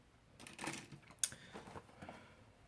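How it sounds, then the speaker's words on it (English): Scissors snipping through the tape seals around the edges of a beauty-product shipping box, a few crisp close cuts and rustles with one sharp snap partway through. "So I need to cut the seals on it with some scissors."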